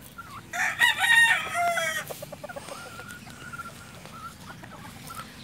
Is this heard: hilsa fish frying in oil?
no